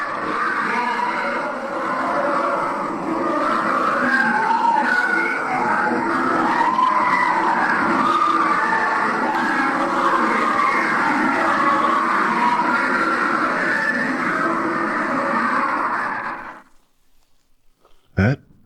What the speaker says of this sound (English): what you just heard were millions of burning souls screaming in agony